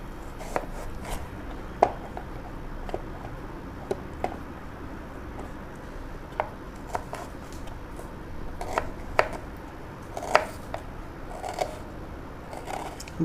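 Sharp knife chops cut vegetables on a board for a bread omelette, a steady series of distinct close taps with irregular spacing and occasional louder strikes, heard alone over a quiet room.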